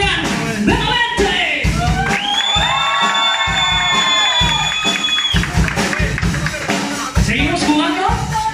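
A live concert crowd at a tribute show cheers, whoops and claps for the bassist, with loud shouts and sustained yelling voices rising over continuous applause.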